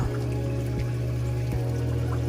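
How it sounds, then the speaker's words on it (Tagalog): Tap water is poured into a small test vial during aquarium water testing, a steady close pour with a continuous low hum behind it and no speech. "Punuin ulit natin ng tubig."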